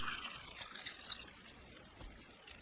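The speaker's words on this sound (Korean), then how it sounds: "장아찌 양념을 재료들이 잠길 정도로 부어줍니다" Soy-based pickling marinade poured over green garlic in a container, a soft, faint trickle and splash that is close but quiet and fades over a couple of seconds.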